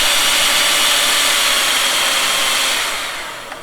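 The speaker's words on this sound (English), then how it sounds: "lower your speed as you take out the mixer" Electric kitchen mixer whirs loudly and continuously while making a blueberry dessert, its steady high whine easing off as the speed is lowered near the end.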